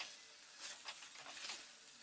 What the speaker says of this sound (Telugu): ఇప్పుడు ఫ్రై చేసుకున్న మంచూరియన్ కూడా వేసి ఈ మిక్సర్ మొత్తం బాగా పట్టేలాగా కలుపుకోవాలి.